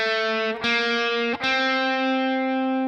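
Distorted electric guitar playing a song's tab, a held note bent upward three times in a slow rhythm, each bend ringing and sustaining, loud and close with no talking.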